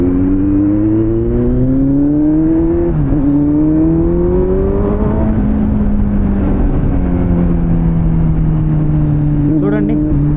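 A superbike engine revs under the throttle, its steady droning pitch rising and falling through several gear-like sweeps, loud and close throughout.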